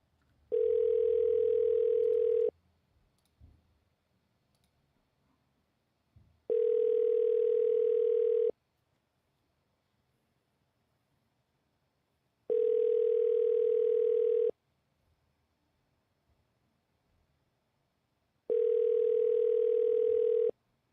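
A phone call rings back in four evenly spaced two-second tones about six seconds apart, steady and clear against near silence, before it is forwarded to voicemail.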